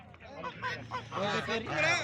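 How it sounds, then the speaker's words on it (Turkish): Geese and ducks honk and quack at a busy open-air poultry market in Sungurlu. The calls come in loud, overlapping bursts mixed with voices and crowd chatter nearby. "Şu ördek kaz grubuna geçelim"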